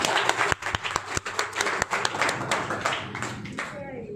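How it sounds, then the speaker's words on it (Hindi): People clapping, with sharp individual claps forming an uneven rhythm close by, mixed with voices talking over them. "भाई तालियां बजा दो।"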